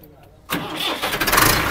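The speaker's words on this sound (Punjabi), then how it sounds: "ਫਿਰ ਟਰੈਕਟਰ ਦੀ ਸਾਊਂਡ ਇੰਨੀ ਜ਼ਬਰਦਸਤ ਹੈ" A tractor engine cranks and catches about half a second in, then settles into a loud, rough, throbbing idle close to the microphone.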